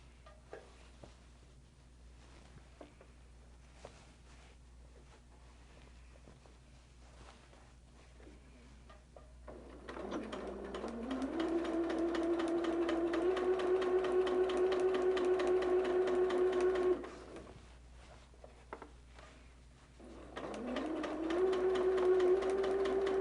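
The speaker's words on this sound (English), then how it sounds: "And we're going to start sewing." A domestic sewing machine stitches an appliqué border on fabric, starting after a quiet stretch, running in a steady whirring hum for several seconds, stopping, then starting again near the end.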